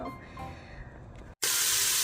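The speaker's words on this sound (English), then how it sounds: "I just threw my onions in there." A sudden loud, steady sizzle bursts in after a brief pause as onions hit a hot pot, hissing continuously over quieter background clatter.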